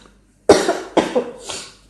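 Three harsh coughs from one person, close and loud, the first strongest and the next two shorter and weaker, following a moment of silence.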